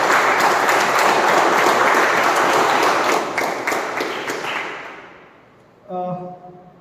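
A crowd applauds at a club meeting, dense steady clapping for about four seconds that fades out, followed by a brief murmur of voices.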